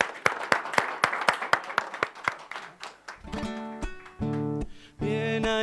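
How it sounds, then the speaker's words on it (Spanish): Applause for the band, a run of separate sharp claps over the first three seconds, then guitar-like music with strummed chords takes over. "lo despedimos con música y con este fuerte aplauso"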